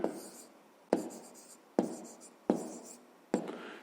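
Pen writing by hand on paper during a fifth-grade maths exercise, close and quiet, in four or five short bursts of scratching strokes with brief pauses between them.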